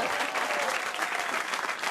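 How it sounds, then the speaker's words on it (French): Steady, dense applause from a studio audience at a French television comedy show, continuous clapping that stays even throughout the short stretch without any talk over it. "Lisa Angel, sous vos applaudissements."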